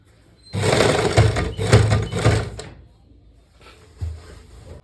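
A sewing machine stitches lining fabric for a pair of pants at slow speed, running in a steady whirring burst of about two seconds, pausing, then starting again more softly.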